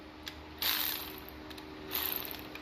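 A ratchet works loose the small cam cap bolts on an SR20VET engine, giving two brief bursts of clicking against a quiet workshop background.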